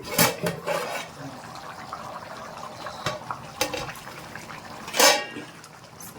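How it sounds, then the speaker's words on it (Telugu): Mutton biryani being stirred in a cooking pot: a few sharp, brief scraping and clattering strokes spaced irregularly over a soft, quiet background. "మధ్యలో ఒకసారి కలిపెడదామండి."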